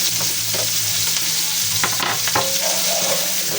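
Chopped onions sauté in leftover pork drippings in a hot pan, a steady loud sizzle with occasional stirring scrapes and clatter, close up and with no talk.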